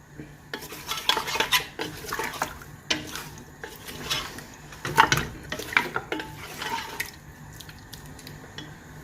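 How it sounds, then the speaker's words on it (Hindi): Mutton sizzles in a pot while a metal spoon scrapes and clatters against its sides in irregular bursts of stirring, with no voices. "हम डालेंगे इसमें अपना ये जो मटन है वो इसमें ऐड कर देंगे और इसको फ्राई करेंगे"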